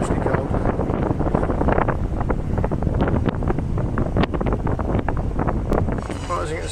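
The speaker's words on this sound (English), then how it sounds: "That wind's getting seriously cold." Cold wind buffets a boat motoring down the Thames past Gillingham, a steady broadband rush and rumble filling the whole stretch, with wind noise striking the microphone and faint hull or water sounds underneath.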